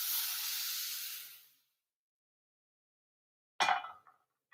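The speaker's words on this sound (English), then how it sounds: "we got a nice sizzle here, too" Cornbread batter sizzles in a hot cast iron skillet, a loud, bright hiss that fades out after about a second and a half, followed by silence and a second short sizzling burst.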